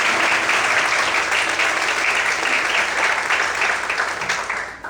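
A church congregation applauds the Lord during a Portuguese-language worship service, a dense, steady wash of many hands clapping that carries on for several seconds and tapers slightly at the end.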